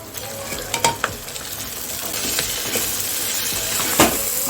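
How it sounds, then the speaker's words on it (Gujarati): Corn chevdo stirred and cooked in a pan, a constant close sizzle with several sharp scraping stir strokes against the pan, no talk. "સારી રીતે મિક્સ કરી લઈશું અને 2 મિનિટ માટે એમને ચડવા દઈશું"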